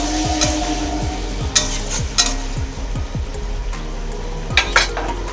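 A splash of water hits a hot frying pan and sets off loud, busy sizzling. A utensil stirs and scrapes against the pan several times, clinking now and then. No one speaks.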